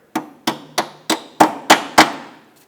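Seven sharp metallic taps, evenly spaced and close, as a locking clip is driven into the groove of a rear brake flex hose on a 2015–2019 Subaru Outback.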